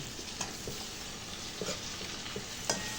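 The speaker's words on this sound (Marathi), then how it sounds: "छान पैकी परतून घेणार आहे।" Chopped eggplant with dal sautés in a pan, a steady hissing sizzle with a few light spoon taps and scrapes as it is stirred.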